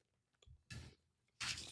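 Table crackers are bitten and chewed up close, giving two loud, sharp crunches separated by quieter mouth sounds and small clicks, with no talking.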